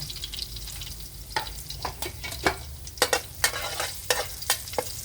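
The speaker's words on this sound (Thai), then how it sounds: "กระเทียมหอมแล้วตีไข่ลงค่ะ" Garlic stir-fried in a hot wok, with a steady sizzle under repeated sharp scrapes and clacks of the spatula in an uneven rhythm, no talking.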